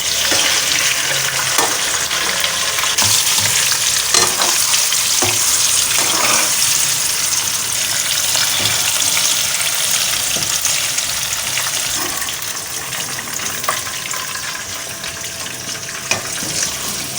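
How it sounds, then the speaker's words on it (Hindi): Nargisi koftas fry in hot oil with a loud, steady sizzle that runs throughout, broken by occasional soft clicks and stirs of a utensil in the pan, with no voices. "बस हमने ये हल्के हल्के से फ्राई कर लिए हैं, इन पे हल्का हल्का सा कलर आ गया।"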